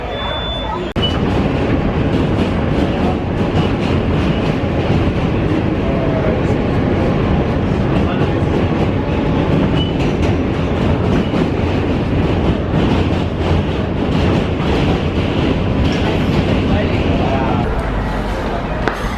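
Continuous rumbling and rattling of a New York subway car in motion, loud and steady throughout, with clattering wheel noise and some muffled voices underneath.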